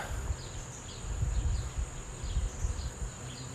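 Honey bees hum steadily around a brood frame pulled from a hive, a soft low drone that swells and fades in waves, with faint higher insect tones above it and no voices.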